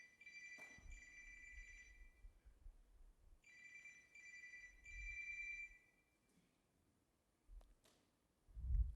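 A telephone rings in repeated bursts of bright trilling at moderate volume, with thuds and rustling around it and no talking.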